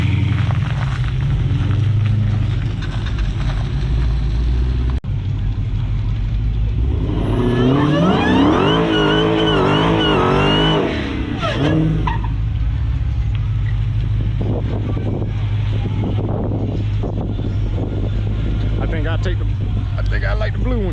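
Dodge Challenger Hellcat and Challenger SRT lined up for a head-to-head run at a dragstrip, engines droning and rising in a loud revving surge mid-clip over constant low rumble and wind, with talk nearby.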